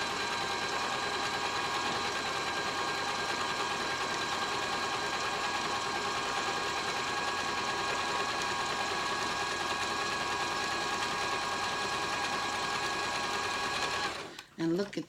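Vintage Janome New Home DX 2015 sewing machine stitching steadily, a loud, close, continuous mechanical whir with a fast even rhythm that runs almost fourteen seconds before stopping abruptly.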